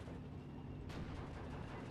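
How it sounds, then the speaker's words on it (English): A tank's ammunition exploding in the video game Steel Division 2, a dull heavy rumble that swells into a broad burst partway through and keeps roaring, heard at a distance under battle noise. "There's one getting ammo explosion"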